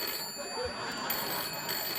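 A telephone rings on a late-night talk show set, with a faint electronic ringing tone repeating over low studio room noise.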